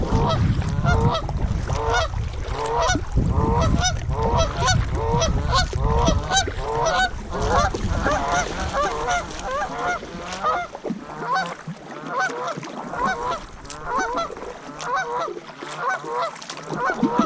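A flock of ducks, pintails among them, lifting off the water on a Nebraska public-land duck hunt: a heavy rush of wings and wind at first, then dense, overlapping honking calls close by, continuing to the end.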